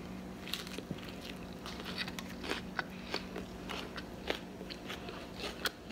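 Someone bites and chews a homemade dish they just cooked, producing close, quiet crunching and crackling with soft mouth noises over a steady low background hum.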